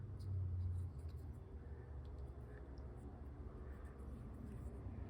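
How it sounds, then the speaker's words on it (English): Road traffic rumbles steadily through an open garage door, a low continuous drone that swells briefly near the start and then holds at a moderate, distant level. "You'll have to pardon any traffic noise you hear in the side."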